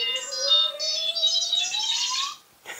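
An R2-D2 droid model from the Fanhome build plays its electronic 'building freak out' effect, a long rising whistle under busy warbling chirps and beeps that cuts off abruptly, followed by a short squawk.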